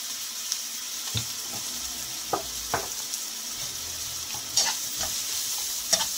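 Ground coriander and cumin frying in hot oil for a drumstick curry, a steady sizzle broken by sharp crackles and spoon scrapes at irregular moments.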